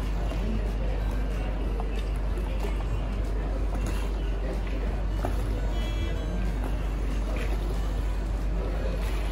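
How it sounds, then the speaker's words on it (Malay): A small boat runs on a fast-flowing river near a village in Song, Sarawak. The engine drones steadily under rushing water for several seconds, with faint background noise. "Ini adalah salah satu penduduk kampung yang menggunakan bot untuk pergi ke seberang"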